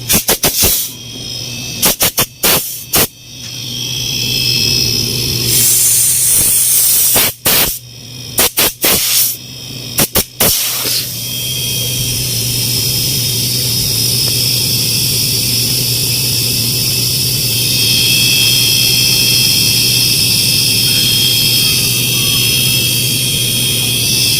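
An inverter air conditioner compressor, previously failing to start with a two-blink fault, kicks on after a few stuttering starts and settles into a steady, loud mechanical hum with a high whine, running alone.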